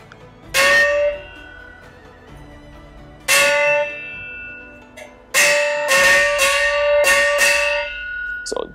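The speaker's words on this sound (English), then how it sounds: "So this is the Chinese small gong." A Chinese small gong is struck about eight times, each hit ringing bright and metallic; several strokes are choked off quickly by a finger mute while others decay longer, with no voices.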